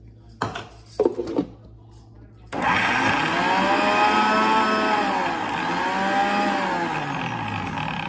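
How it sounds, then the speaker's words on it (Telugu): A kitchen mixer grinder grinds sesame seed powder for a mint chutney filling for mirchi bajji. A few clinks and knocks come first, then the motor starts and runs loud and steady at close range for about five seconds, its pitch dipping slightly midway. "నువ్వుల పొడి వేసేసి గ్రైండ్ చేయాలి."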